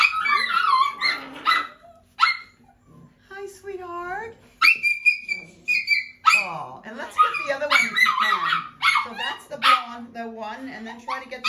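Small puppies whimper, yip and give high little barks in scattered bursts close by, while someone talks softly to them over the top.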